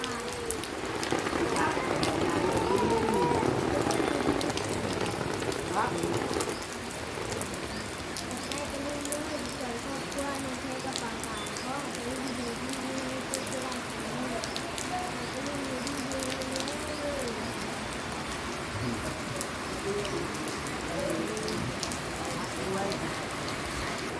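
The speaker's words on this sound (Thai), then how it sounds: "ฝนกระตกก็ฝนพี่น้องเอ้ย" Steady rain pattering on surfaces outdoors, a continuous even wash of drops with faint voices and other sounds beneath it throughout.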